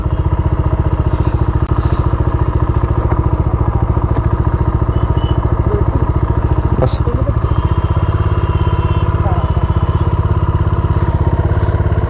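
A motorcycle engine throbs loudly and steadily at close range at the start of a bike trip to Mousuni Island. The low rumble is constant throughout, with a few brief clinks and faint voices mixed in.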